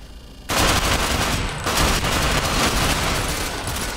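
Sustained automatic gunfire in the futuristic tactical shooter game Ghost Recon Phantoms, a dense, loud burst of rapid shots that starts abruptly after a brief quiet moment and continues without a break.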